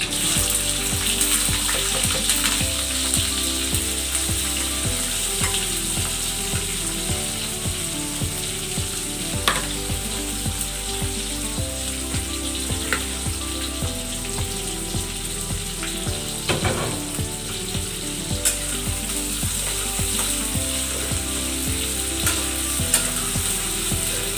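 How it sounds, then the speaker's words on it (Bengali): Chopped onions with whole cinnamon and bay leaf frying in a pan for aloo dum, a dense continuous sizzle with occasional light stirring clicks, close and fairly loud throughout. "এখন আমি পেঁয়াজ কুচি দিয়ে দেব।"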